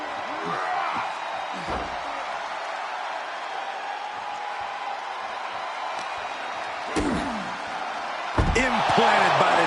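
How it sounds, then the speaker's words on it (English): Heavy metal doors of an ambulance slam shut in a WWE wrestling video game on PS5, giving a couple of loud, sharp bangs over a steady arena crowd roar, with commentary heard underneath. "Get them in the ambulance and slam the doors"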